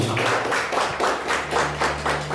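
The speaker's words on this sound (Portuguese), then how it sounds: "Graças a Deus e palmas para Jesus." A church congregation claps in a steady rhythmic beat, roughly two to three claps per second, with a sustained low hum, likely from an organ or keyboard, underneath.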